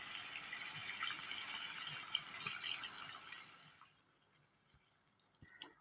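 Tamarind water is poured into simmering vatha kuzhambu, a steady close liquid splash and gush lasting a few seconds before it cuts off, followed by quiet drips and a small clink.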